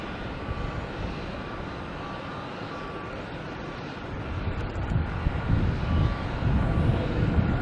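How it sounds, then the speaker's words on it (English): A JetBlue airliner aborts its landing and goes around at Logan Airport at night, a broad, steady engine roar that swells louder toward the end. "Oh, we have a wave off. Looks like a JetBlue for sure."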